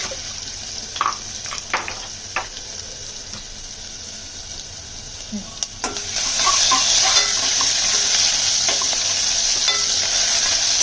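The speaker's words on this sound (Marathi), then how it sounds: "लसणीची चांगली फोडणी बसली पाहिजे." Faint clinks and stirring at first, then a sudden steady sizzle as garlic hits hot oil, continuing loudly to the end.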